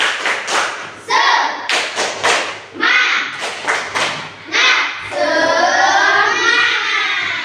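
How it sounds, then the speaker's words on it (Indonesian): Schoolchildren in a classroom perform a rhythmic patterned clap, bursts of sharp hand claps and thumps in groups, ending in a longer shouted cheer, with young voices joining in. "satu kali lagi ya, supaya kalian tidak mengantuk ya. Tepuk semangat"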